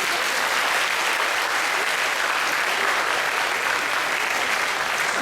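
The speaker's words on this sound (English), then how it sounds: "can we give them a round of applause?" Sustained, dense applause from a lecture audience on the Philippine Sea dispute, with steady clapping that holds at an even level throughout and no voices over it.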